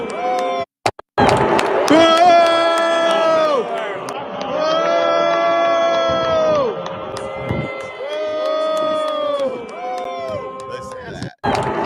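A crowd at a Red Sox baseball game, loud and sustained, with overlapping voices swelling and dipping in long waves of shouting and jeering that fill the whole stretch apart from one brief near-silent gap.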